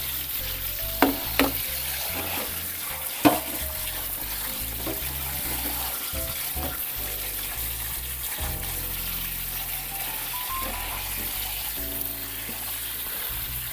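Cooked pasta rinsed under cold running tap water, a steady close hiss and patter of flowing water, with a few sharp clanks and shuffles of the noodles being stirred around in the stream.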